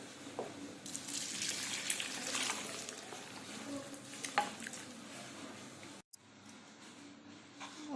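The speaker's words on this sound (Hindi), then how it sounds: "हमारे सोया चंक्स उबल चुके हैं। अब उसे छान लेते हैं।" Boiled soya chunks are poured into a strainer and drained, with a gushing splash of water in a kitchen sink that fades to a softer trickle, a brief cut, and then more light dripping.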